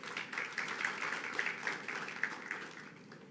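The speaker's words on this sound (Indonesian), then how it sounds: "Bolehkah kita semua berikan tepuk tangan dulu buat Tuhan?" Congregation applauding during a church service, a soft, dense patter of many hands clapping at a steady level that fades slightly toward the end, with no voices on top.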